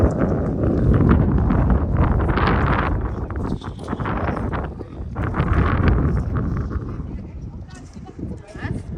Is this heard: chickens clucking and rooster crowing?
no